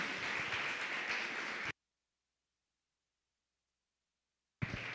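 A church congregation claps together in a lively burst, then the sound drops to complete silence for about three seconds before clapping returns briefly at the end.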